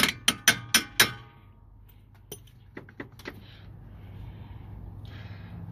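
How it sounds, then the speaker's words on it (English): A small hammer taps a car's strut during a removal, five sharp close metallic taps at the start followed by a few fainter knocks over quiet background noise. "I should use a hammer, but I use like a little type of hammer."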